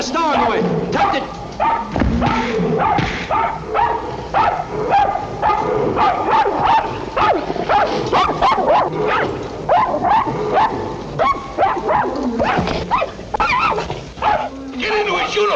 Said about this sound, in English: Take this dog away.